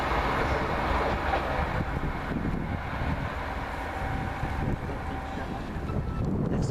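A Nottingham to Birmingham New Street passenger train rolls past Water Orton with a loud, steady rumble and rushing wind noise that stays strong throughout before easing slightly.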